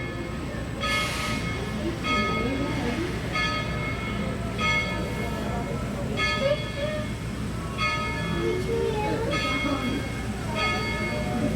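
Tweetsie Railroad heritage train pulling out, with a bell ringing at a steady, regular pace over the constant low rumble of the train; a voice can be heard faintly beneath it.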